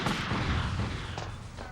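A grenade explodes in the PlayStation game Army Men: Land Sea Air, a fairly faint burst of booming, crackling noise that decays into a rumbling tail with a couple of smaller follow-up thumps.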